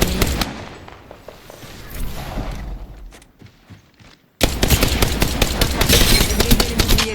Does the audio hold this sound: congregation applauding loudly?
no